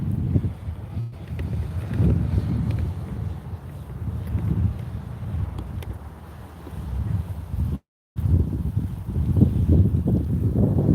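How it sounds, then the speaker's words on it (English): Wind buffets an outdoor camera microphone with a steady, rumbling roar that rises and falls in gusts, and one brief dropout near the end. "Wind's pushing my camera some."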